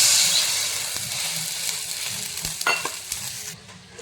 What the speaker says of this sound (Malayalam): ഇനി ഒരു പാനിലേക്ക് 1/2 കപ്പ് വെള്ളം ഒഴിച്ചു കൊടുക്കാം.